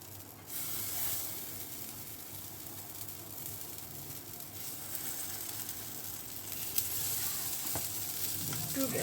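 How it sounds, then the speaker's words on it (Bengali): A veg kabab shallow-fries in ghee in a pan, giving a steady, close, dense sizzle and hiss that runs the whole way with little change. "একদম শ্যালো ফ্রাই করবো এটাকে।"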